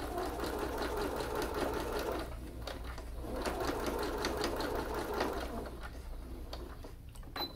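A sewing machine stitches a fabric over-the-collar slip-on dog bandana in quick rhythmic bursts with brief pauses, while pigeons coo softly in the background.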